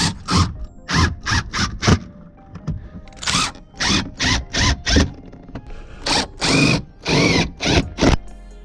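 Repeated short bursts of a high-pitched power drill whirring through a plastic front splitter during an install on a Hyundai Genesis Coupe, each lasting under a second, with brief quiet gaps between them, close by.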